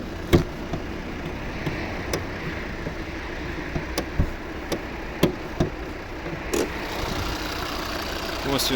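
A 2011 Volvo V50 with a 2.0 D3 diesel engine and manual gearbox idles with a steady, even hum, broken by regular sharp ticks and clicks.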